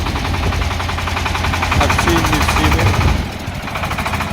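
A single-cylinder Shifeng 244 tractor engine runs with a loud, rapid, steady knocking chug close by, its pace holding even throughout with a slight drop in level near the end.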